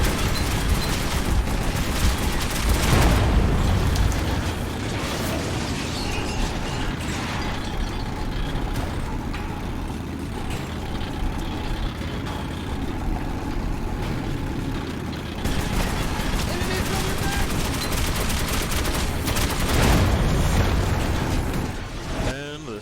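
Turret gunfire and explosive bursts in the video game Metro 2033 rumble through a dense, continuous barrage, with heavier blasts near the start and again near the end, while voices talk faintly underneath.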